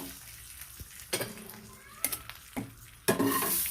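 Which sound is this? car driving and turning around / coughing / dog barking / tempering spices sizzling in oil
tempering spices sizzling in oil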